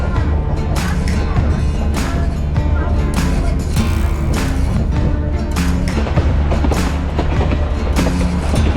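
A train on a historic railway in Colorado rumbles along steadily with loud rattling and clacking of wagons, a continuous close-up mechanical roar throughout.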